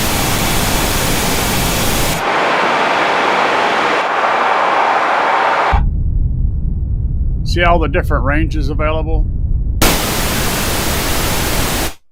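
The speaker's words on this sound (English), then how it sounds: "So full range is the full range pink noise." Bursts of loud, hissing full-range pink noise test signal switch on and off across the clip, interrupted by a brief stretch where someone speaks over a quiet hum.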